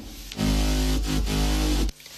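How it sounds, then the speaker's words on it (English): A deep, heavy bass line plays a few thick sustained notes, loud and close, starting abruptly and cutting off after a short phrase. "Then adding a bass line that sounds like this."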